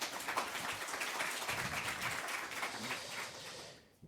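An audience at a freelancing conference claps in a dense, even burst of applause, then the clapping cuts off abruptly near the end.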